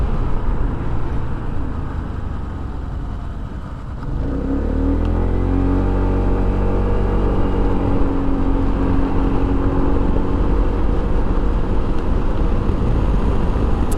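A 2022 Honda ADV150 scooter idles and then pulls away, its engine note climbing and settling into a steady droning ride on a parkway, with constant wind rush and road noise.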